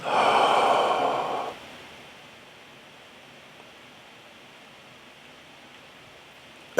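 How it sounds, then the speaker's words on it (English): A person takes one deep, loud inhale during a guided breathing exercise, lasting about a second and a half, then holds the breath in near silence with only faint room hiss. "Breathing in, hold."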